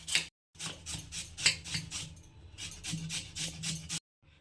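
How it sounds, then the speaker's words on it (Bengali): Raw potato is rubbed on a hand grater in a run of quick, rhythmic rasping strokes, about ten in all, with brief pauses between bursts, close and alone. "তো ঘষনির সাহায্যে আমি আলুটাকে ঘষে নিয়ে নেব।"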